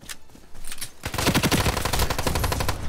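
Pistol fire in the online shooter game Ironsight: a few scattered shots, then a rapid run of loud, closely spaced bangs with a clear rhythm.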